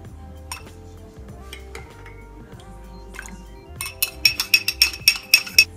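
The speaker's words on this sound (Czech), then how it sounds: "Do skleničky se dáme jednu lžíci lněného semínka" A spoon stirs a tablespoon of flaxseed with water in a small glass, with soft knocks at first and then a quick run of bright, ringing clinks against the glass, close and crisp.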